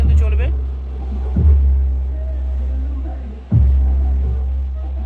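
A large pressure-board sound system pumps out loud, sustained heavy bass, a deep steady throb with a couple of sharper thumps rolling through the continuous low rumble.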